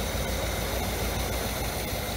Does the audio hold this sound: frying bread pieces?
no